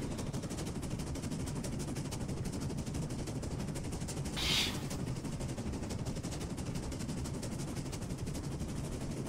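A rapid, steady stream of mechanical chuffing beats from a model steam locomotive hauling twelve coaches up a 1 in 27 gradient, dense and continuous, with one brief hiss midway through.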